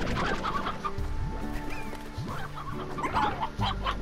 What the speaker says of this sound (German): Jetzt sammle ich hier erstmal alle Hühner außer 2.